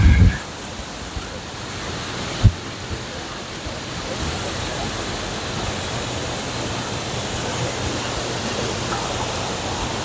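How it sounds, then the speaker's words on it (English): Steady broadband roar of water pouring over Wilson Dam and rushing down the river below, continuous and loud throughout, with a brief thump near the start and a sharp knock partway in. "this is her first time seeing a waterfall"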